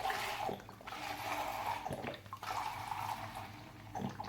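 Rice vinegar is poured into a container for homemade sweet chilli sauce, a steady close liquid splashing and trickling that swells and dips over a few seconds, alone with no voices.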